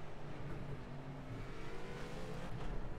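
GT4 race car in Project Cars, a steady engine drone holding a fairly even pitch, faint and distant-sounding, with no talk.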